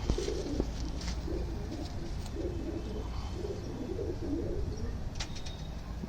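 Punjabi pigeons coo softly in low, repeated phrases beneath a steady hiss of background noise, with a few faint chirps and brief wing sounds.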